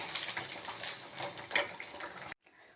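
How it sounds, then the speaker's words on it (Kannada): Food frying in a pan just before grated coconut goes in, a steady hiss with faint stirring ticks that cuts off abruptly near the end. "ಸೈ ಅಂತ ಸೌಂಡ್ ಬಂತು ಇದು ಫ್ರೈ ಆಗ್ತಾಯಿದೆ"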